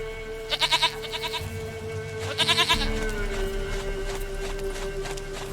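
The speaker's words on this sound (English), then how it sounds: "Goat of mine, dearest," A goat in the video game Witcher 3 gives two bursts of quavering, trembling bleats, loud and near, over a steady ambient game soundscape.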